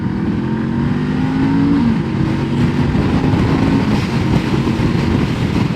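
A Honda CL500 Scrambler motorcycle pulls steadily up to speed on a road, its engine note rising as it accelerates, heard continuously and fairly loud beneath wind buffeting on the microphone.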